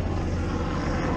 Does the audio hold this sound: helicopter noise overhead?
yes